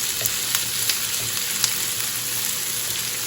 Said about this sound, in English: we're just gonna let that saute a bit till the onions become translucent